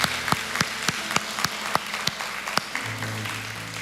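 A church congregation at a Sunday worship service applauds in blessing after a prayer, steady moderate clapping with sharp individual claps standing out, and a low hum near the end.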